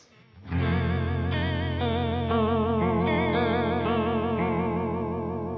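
Electric guitar played through a chorus pedal on its 80s setting, one of three EHX Small Clone style circuits in a single box, giving a deep, wobbling, heavily modulated shimmer over sustained chords, loud and steady with no talk.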